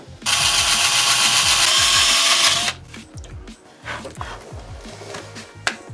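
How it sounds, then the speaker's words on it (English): A power drill bores a hole through carbon fibre, a loud steady high whine lasting over two seconds, then stops, followed by quieter handling clatter and clicks nearby. "I've got to drill this hole in this carbon fibre"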